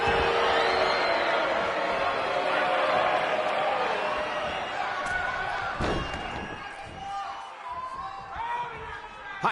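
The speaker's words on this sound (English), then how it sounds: "Hot crowd here tonight in Minneapolis, a city so rich in wrestling tradition." A crowd in a wrestling video game roars loudly and steadily from a distance, with a sharp slam cutting through midway before the noise eases off.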